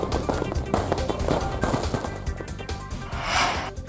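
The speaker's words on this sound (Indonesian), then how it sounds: "Ribuan orang di Merauke sambut tahun baru dengan pesta kembang api." New Year fireworks over Merauke, Papua, where thousands of people gather to celebrate, give a steady, dense rattle of crackling pops and bangs, fairly loud throughout, with a brighter hissing burst near the end and a faint crowd murmur underneath.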